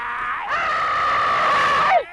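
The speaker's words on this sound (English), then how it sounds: "Really is a lot of screaming." A long, piercing scream from the 1983 fantasy film Hundra rises sharply, holds strong and steady for over a second, then drops off abruptly, loud and close against a quiet background.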